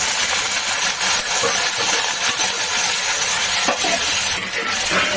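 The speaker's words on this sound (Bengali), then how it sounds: "একটু লবণ আর হলুদটা দিয়ে একটু ভাজি" Mixed vegetables fry in hilsa fish oil with nigella seeds, green chillies, salt and turmeric, giving a loud, continuous close sizzle broken by scraping stirring strokes and light metallic clinks.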